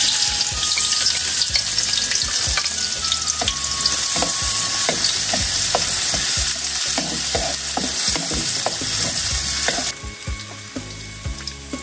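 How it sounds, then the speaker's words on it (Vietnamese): Loud, steady sizzling of minced garlic and shallots frying in hot oil, with occasional clicks and scrapes of stirring; the sizzle drops a little near the end. "Dầu cũng nóng nè, em cho tỏi với hành tím băm nha."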